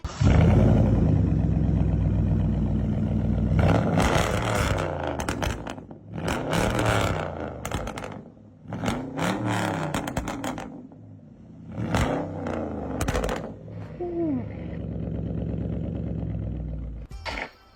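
A car engine revving hard in repeated bursts, loud roaring climbs that drop back between blips, with a rough idle at the start and end.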